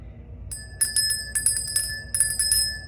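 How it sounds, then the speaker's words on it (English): A small bell rung to cleanse the space before a tarot reading gives several bright, ringing strikes in clusters, clear and close against a low background hum. "Let's ring the bell before that."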